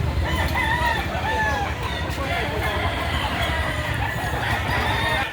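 Several roosters crow repeatedly at a busy outdoor chicken market, overlapping calls near and farther off above a steady crowd murmur, with people talking in the background.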